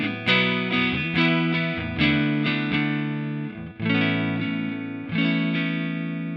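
An electric guitar plays a sequence of strummed chords through a multi-effects processor built into the guitar, using an amp model with slight breakup. Each chord rings out clearly and sustains with a mildly gritty tone, with no voice.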